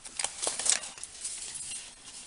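Paper being cut into a 1.5 inch strip from a 12x12 scrapbook paper pack: a few quiet, crisp slicing and rustling strokes early on, then faint handling noise, with no talk.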